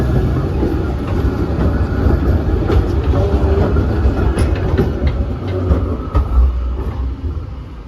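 A Munich interurban tram, Line 25 toward Grünwald, rolls in loudly with a steady rumble and occasional metallic clicks and squeaks from the rails, growing close.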